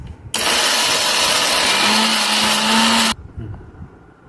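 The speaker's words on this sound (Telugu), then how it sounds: "మెత్తగా మిక్సీకి వేయాలండి" A mixer grinder blends mango, ginger-garlic and jaggery into a pickle paste with a loud, steady whir for about three seconds, then cuts off to a quiet, faintly noisy room.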